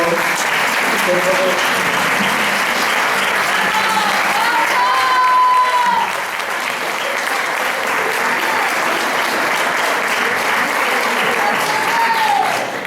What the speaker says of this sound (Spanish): quisiera pedirles un aplauso para esta rondalla